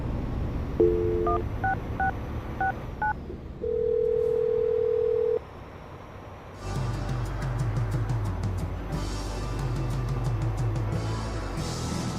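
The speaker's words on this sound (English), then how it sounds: "I'm going to dial the phone number right now and see if we can get him on the phone" A telephone is dialed during a radio morning show call: a quick run of touch-tone beeps, then a steady dial tone, then a ringing line with clicking and rhythmic tones underneath, all without speech.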